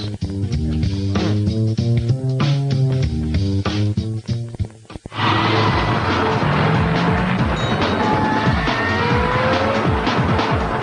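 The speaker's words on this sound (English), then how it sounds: "This is the Aquata, invented by New Zealand millionaire Alan Gibbs" A Gibbs Aquada amphibious sports car drives with a loud, steady engine and rhythmic mechanical pulsing. After a short break, a busier, sustained roar follows with rising pitch sweeps, and no voices are heard.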